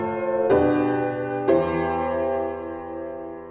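A progression of four triads, each in first inversion, sounds as a sustained chord at moderate loudness, with a second chord struck about a second later and left to ring and fade, alone with no voices.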